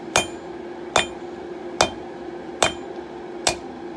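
Five evenly spaced ringing hammer blows on an anvil, each a sharp close strike with a bright metallic ring, drawing a square taper on 1-inch round 1045 steel.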